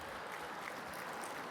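Audience clapping in a keynote room, a steady wash of many hands applauding at moderate level throughout, with no voices over it.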